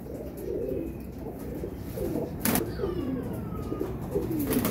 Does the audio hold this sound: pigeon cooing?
yes